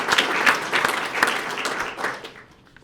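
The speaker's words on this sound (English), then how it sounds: "One more round of applause" A crowd applauds at a police department swearing-in ceremony, steady close clapping from many hands that carries for a couple of seconds before tapering off.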